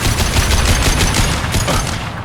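Enemy gunfire in a close-quarters firefight in Mass Effect 2, played on Insanity difficulty: a dense, loud burst of rapid repeated shots running continuously for a couple of seconds.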